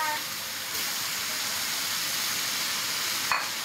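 Bell pepper and spring onion stir-frying in a pan, a continuous soft hissing sizzle with a brief louder scrape near the end.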